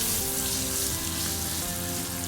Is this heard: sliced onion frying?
yes